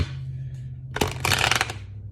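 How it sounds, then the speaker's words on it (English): Moonology oracle cards being shuffled, a quiet hum at first, then a dense burst of riffling card flicks close by, with no talking. "Wow, I didn't want to shuffle that time."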